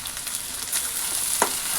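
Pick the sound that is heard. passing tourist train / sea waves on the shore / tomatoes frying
tomatoes frying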